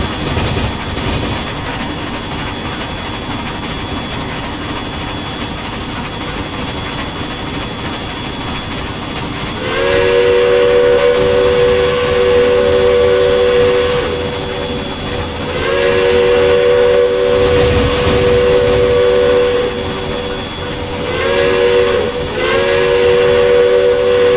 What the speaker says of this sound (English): the chuff sounds don't get offbeat whenever the front and rear drivers are out of sync